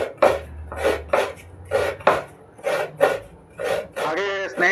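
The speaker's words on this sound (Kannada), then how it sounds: "ಈಗ ಇದನ್ನ ತುರಿದುಕೊಳ್ತೇನೆ" A coconut is grated by hand: about eight regular rasping strokes, each a short, scratchy burst close to the listener, with a brief voice at the very end.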